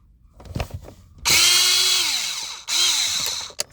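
A power driver spins out a Torx 20 screw from a 2003 BMW 525i instrument cluster in two close, loud whirring bursts, each pitch sweeping down as the screw loosens, after a few light handling clicks.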